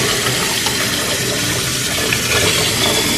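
Water poured from a tap into a rice cooker pot with rice in it, a loud, steady rushing splash that runs without pause for about three seconds.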